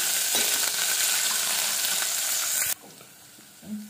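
Spices sizzle and crackle steadily in hot oil in a pan for an aloo dum curry, loud and continuous, then cut off abruptly to a quiet background with a faint low thump near the end.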